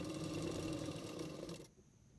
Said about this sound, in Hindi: मैंने पहले मार्किंग कर लिया है, उसके बाद फिटिंग के लिए सिलाई कर रही हूँ।